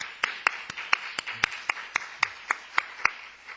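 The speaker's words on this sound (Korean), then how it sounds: "박수 한번 할까요?" A church congregation claps together in a steady, even beat, roughly fourteen crisp claps in unison at a brisk pace, close and fairly loud with no voices over them.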